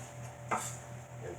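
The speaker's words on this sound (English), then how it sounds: "We'll take 1 of the shallots and cut it" One soft knife cut through a shallot on a board lands as a single brief thud midway, faint and close over a low kitchen hum.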